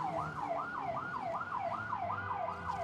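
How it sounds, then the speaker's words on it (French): Ambulance siren wailing in a fast regular up-and-down cycle as the vehicle rushes in at speed during fighting near Raqqa, loud and steady throughout with no talk. "une ambulance arrive en trombe"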